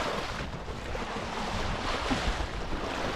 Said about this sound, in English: Oh, the waves are rolling in now.